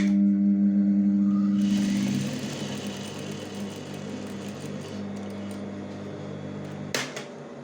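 A sewing machine stitching a decorative seam hums steadily for about two seconds, then stops, leaving only quiet fabric handling and a brief clack near the end.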